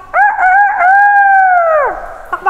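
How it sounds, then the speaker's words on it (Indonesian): A rooster crows once, loud and close, a long rising then falling call ending in a drop, with quiet background afterward. "terdengar suara ayam jago berkokok"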